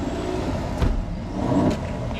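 A 2020 GMC Denali pickup with a ProCharger supercharger and full exhaust rumbles in a deep, throaty idle, swelling twice in brief revs, heard from close by.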